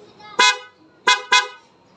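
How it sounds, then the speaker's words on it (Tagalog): A Honda Click V2 motorcycle's dual contact horn honks three times up close: one short blast, a pause, then two quick toots in a row, bright and loud. "Ito, busina nito, yung louder nito may passing na."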